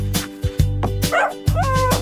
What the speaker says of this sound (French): le chien aboyait doucement et joyeusement